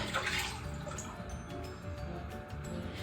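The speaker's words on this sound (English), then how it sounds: "I'm going to pour it right in that measuring cup." Homemade beef bone broth poured into a measuring cup, a close, steady splashing trickle of liquid that runs the whole time with no one talking.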